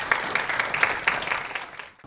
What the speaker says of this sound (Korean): 김광석 이사님의 강연을 열렬히 환영해 주시고 박수 맞아주시기 바랍니다